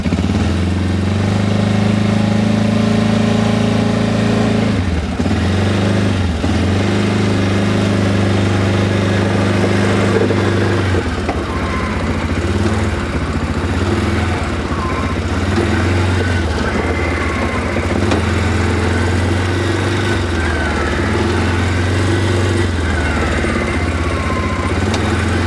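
A quad bike (ATV) engine runs close by, a loud steady idling rumble with a low droning pulse that dips briefly a few times, with no talk over it.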